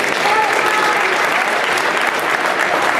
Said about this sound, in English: another round of applause for your LCHS Panther Wrestling Squad